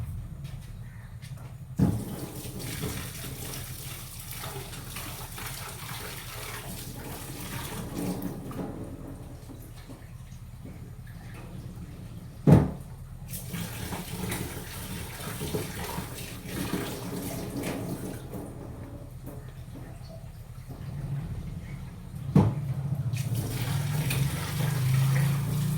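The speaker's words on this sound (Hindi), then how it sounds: "एक मिनट का चावल धो रही हूँ।" Running tap water pours steadily while rice is washed, with a few louder splashes or knocks at intervals; no talking over it.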